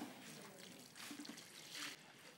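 Water is poured in short bursts into a fine plaster mix on a masonry job, a close, quiet trickle and splash alone.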